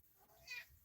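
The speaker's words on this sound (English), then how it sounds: "Sorry, I got my cat here." A pet rescue cat gives a single short, faint meow close by in a quiet room, standing briefly above a soft background hiss.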